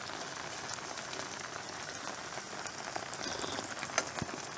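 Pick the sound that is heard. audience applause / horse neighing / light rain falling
light rain falling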